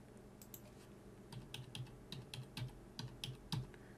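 Rapid keystrokes on a computer keyboard while entering a number into tax preparation software, irregular clicks in quick bursts, close and clear with no speech.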